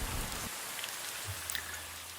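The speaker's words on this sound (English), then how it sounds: "It's starting to rain," Steady rain hisses evenly outdoors on the coast at Fort Bragg, California, with a few faint droplet ticks over a constant soft wash of noise.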